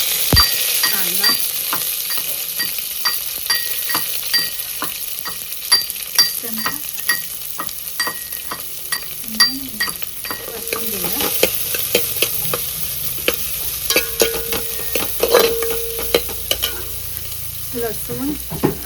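Finely chopped onions fry in hot oil with garlic and ginger, a continuous close sizzle broken by frequent rhythmic scrapes and clicks of a spoon stirring the pan. No voices are heard.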